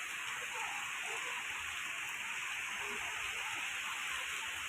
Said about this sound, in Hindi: आप लोग देख सकते हो कितनी अच्छी बारिश हो रही है।